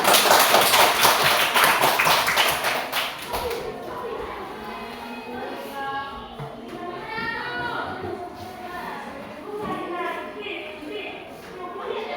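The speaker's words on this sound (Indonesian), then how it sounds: "Sekali lagi kita berikan aplaus untuk kita semua." A class of children claps together in a dense, loud burst of applause for a few seconds, then it fades into their chatter and voices.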